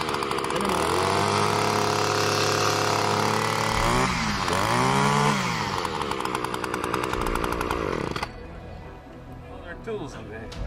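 An Echo PAS 280 power attachment system engine runs loud and close, revving up and down in the first half, then dropping to a lower idle near the end.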